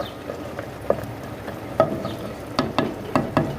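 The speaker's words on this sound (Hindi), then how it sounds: "इसको मैं अच्छी तरह मिक्स कर दूँगी" A spoon stirs peas and minced meat in a cooking pot with a little water left, giving soft scrapes and a few sharp clinks against the pot over a low simmering sizzle.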